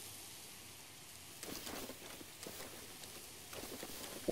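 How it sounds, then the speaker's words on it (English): Steady rain hiss falls across the landscape in The Legend of Zelda: Breath of the Wild near the Zora quest area, a constant wash with a few louder splashy bursts rising briefly over it, no voices. "It's again perpetual rain."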